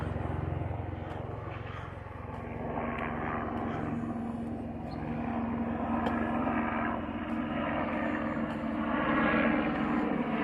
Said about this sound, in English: There's the police helicopter up there.